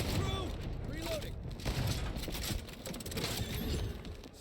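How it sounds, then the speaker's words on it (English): A special gun fires in a video game in a rapid burst of booming shots and blasts over several seconds, dense and loud, with voice lines spoken over the gunfire. "Firing. This special gun only has so much ammo."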